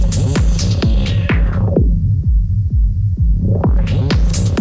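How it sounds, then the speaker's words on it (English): Loud electronic music with a steady thumping kick plays through a Djay Pro AI mix on iPad. Midway a low pass filter sweeps in, muffling the track down to its bass and beat before the highs open back up. "We can bring down with a low pass filter the high frequencies."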